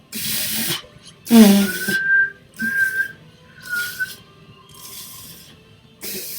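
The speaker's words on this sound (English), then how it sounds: "here's how you whistle, just put your lips together and blow" A person whistles a few short, breathy phrases, with rising and sliding notes broken by bursts of airy blowing and brief pauses, heard close and fairly loud.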